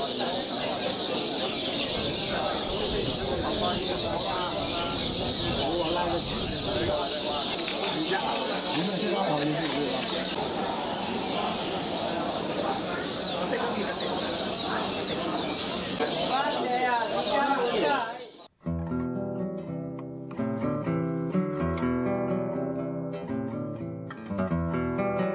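Birds chirp and warble continuously at a bird-singing competition over a busy crowd murmur. The sound cuts out abruptly near the end and is followed by unrelated tonal sound.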